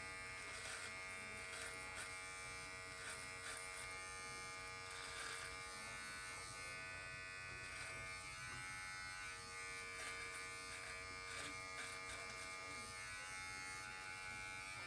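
An electric precision beard trimmer buzzes steadily through a close shave along the lip line, a continuous near, bright whine with slight shifts in pitch as it moves over the hair, no talking.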